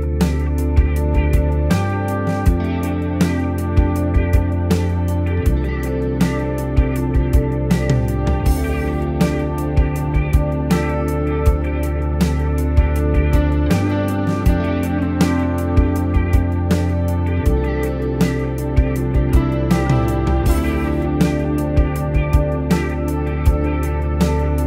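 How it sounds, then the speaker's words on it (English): A lo-fi song plays with its vocal track muted, leaving a steady loop of drums, bass and chords. The kick and snare repeat in an even rhythm, and the music is loud and continuous throughout. "I made this song as like a lo-fi song for my lo-fi project"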